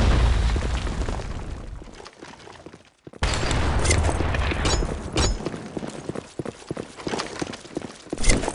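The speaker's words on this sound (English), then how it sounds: "Fire in the hole! Grenade!" Grenade explosions in the video game Insurgency: Sandstorm, a loud burst of booms and crackling bursts that dips briefly and then comes back with more rapid pops and thuds.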